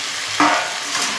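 Chicken fries in a pan, with a sudden sizzling burst partway through that settles into a quieter hiss.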